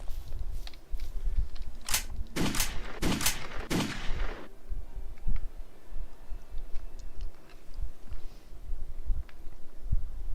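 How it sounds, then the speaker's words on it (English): Gunshots fired at a wall in the video game Deepwoken, a handful of sharp loud cracks spaced about a second apart in the first few seconds, then quieter scattered clicks and faint game ambience. "Do I just gotta shoot at a wall for like 3 years till I run out of bullets?"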